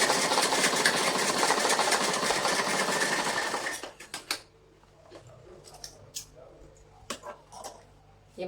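A sewing machine stitches a salwar seam in a fast, steady whir for about four seconds, then stops, leaving faint handling clicks and rustles of fabric.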